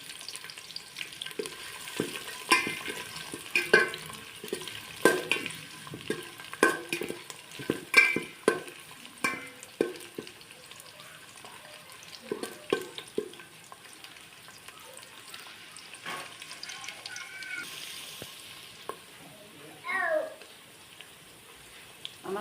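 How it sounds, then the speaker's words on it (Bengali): Cherries, cashews and raisins fry together in a pan along with bay leaves, cloves and cardamom for vegetarian pulao, giving a soft, steady sizzle broken by repeated scraping stirs, with light clatter near the end. "চেরি, কাজু আর কিশমিশ সব একসাথে ভেজে নেব।"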